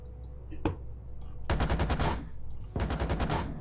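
Tank guns and machine guns fire in the GHPC combat video game: a single sharp shot, then two long rapid bursts of automatic gunfire, loud and close, with faint background noise between.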